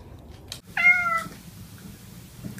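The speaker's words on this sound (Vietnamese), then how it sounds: "Con mèo nó đòi ăn, để cho nó chút thịt." A cat gives a single short meow while begging for food. It sounds fairly close but quiet, against a soft indoor background with a few faint clicks.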